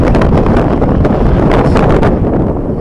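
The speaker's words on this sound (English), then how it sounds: "one of the windiest spots in Binghamton right here. It's always a breezy day." Strong wind on a breezy hilltop at Binghamton University Nature Preserve, roaring and buffeting the microphone loudly and continuously with gusty surges.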